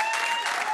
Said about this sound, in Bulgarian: Аплодисменти за Красия, браво!